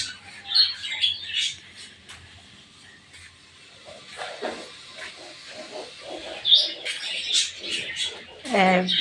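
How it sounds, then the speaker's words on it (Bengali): Pet birds on a balcony chirping and squawking in short bursts, moderately close, with quiet household background and someone speaking at times. "আমার পাখির কিচিরমিচির শব্দ আপনাদেরকে শোনাই"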